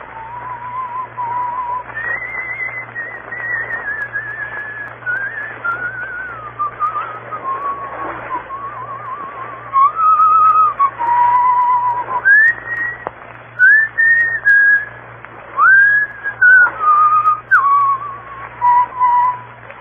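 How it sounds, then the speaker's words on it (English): A person whistles the tune Annie Laurie in a clear, sustained melodic line, close and alone, with rising and falling phrases over a faint steady hum, the notes growing more clipped toward the end, in an old radio drama. "whistle Annie Laurie."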